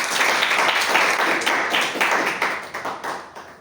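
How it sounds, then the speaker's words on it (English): A room of members at a Toastmasters club meeting gives a loud round of applause, sharp dense clapping that holds steady and then thins slightly toward the end. "Welcome him with a loud round of applause"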